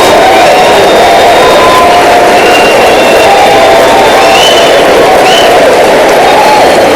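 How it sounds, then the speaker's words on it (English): A large audience at a motivational speech erupts in loud, continuous applause mixed with cheering and whoops, a dense, close crowd roar that holds for the whole seven seconds. "Give yourselves a round of applause"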